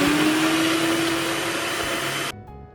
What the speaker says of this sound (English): I'm going to blend it now here on my blender